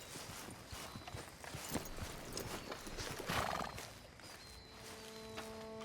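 Horses in the Red Dead Redemption 2 video game clop their hooves steadily and let out a whinny, with outdoor ambience and a faint sustained tone near the end.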